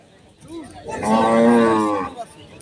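A cow at the Rajshahi city cattle market gives one long, loud, close moo of about a second, with quiet market background before and after.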